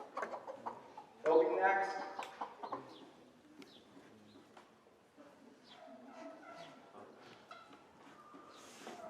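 Chickens at a county poultry show cluck and crow intermittently at moderate distance, with someone talking over them and other barn noise in the background.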